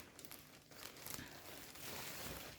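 A plastic zip bag from a clothing order being handled, with close, continuous crinkling and rustling that rises and falls in irregular bursts.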